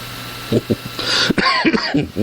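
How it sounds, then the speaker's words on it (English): A person coughs a few times, short harsh bursts, then speaks briefly, close and fairly loud. "Cannot get rid of this cough."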